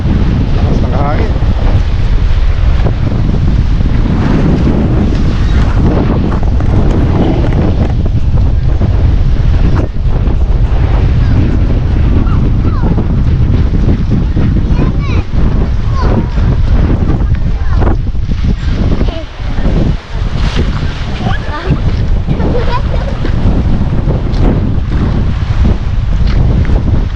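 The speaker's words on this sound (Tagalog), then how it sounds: "Lakas ng hangin." Strong wind gusts across a seaside pier, a loud continuous roar buffeting the microphone with the wash of sea water underneath, steady for nearly half a minute.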